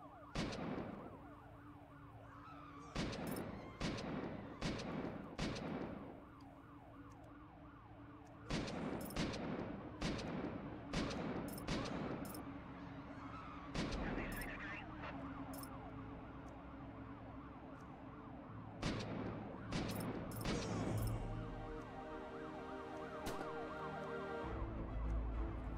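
Shotgun blasts in the video game Shark Simulator, a series of sharp, loud bangs fired in quick bursts with short pauses between them, over a continuous game background hum.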